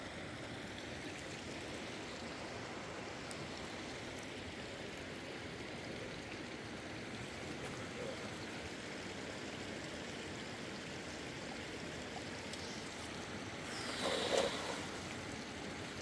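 A mountain stream flows steadily and close, a dense, even rush of water that holds constant for the whole stretch, with a slightly louder splash near the end.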